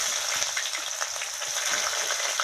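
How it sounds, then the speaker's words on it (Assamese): Chopped onion sizzling in hot oil, a dense steady frying hiss with small crackles and occasional stirring sounds, close and fairly loud with no talking. "মোৰ তেল গৰম হৈ আহিলে আৰু মই ইয়াত কাটি থোৱা গোটেই পিঁয়াজটো দি দিছোঁ।"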